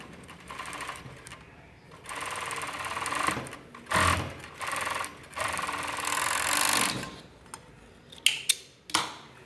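A sewing machine stitches a men's boxer brief in several bursts of fast rhythmic whirring, separated by pauses, close and loud, ending with a few sharp clicks, with no talk.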